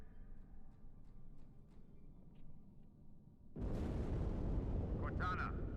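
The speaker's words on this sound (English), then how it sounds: "That explosion came from inside the Athens, same as the Malta." A large explosion erupts in the Halo 2 video game, a sudden loud roaring blast that cuts in over a low ambient hum and keeps rumbling steadily to the end.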